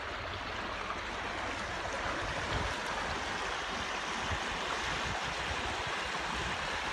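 Wastewater from a treatment plant pours into a stream bed, a loud, constant rushing and splashing that fills the scene without pause.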